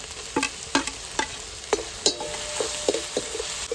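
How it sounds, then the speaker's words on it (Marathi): Onion, tomato and ginger-garlic paste being sautéed in a pan for ragda patties, with a soft steady sizzle broken by repeated sharp scrapes and taps of a stirring spoon against the pan. "कांदा, टोमॅटो, आलं लसणाची पेस्ट चांगली परतून झालेली आहे."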